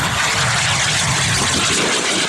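A large-scale model jet aircraft makes a low downwind pass, giving a loud, steady, close turbine roar and rushing hiss that holds evenly throughout with no talk over it.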